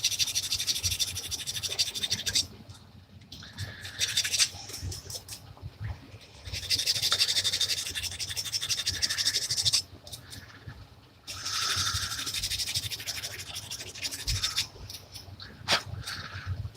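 Close hand sanding of a wooden workpiece's edges with 320-grit sandpaper, loud bursts of rhythmic rubbing strokes separated by short pauses, with no talk.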